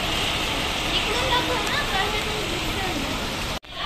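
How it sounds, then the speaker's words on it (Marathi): Heavy rain roars as a dense, continuous hiss, loud and close throughout, cutting off abruptly just before the end. "बाहेर चाललेला आहे जोर जोरात पाऊस"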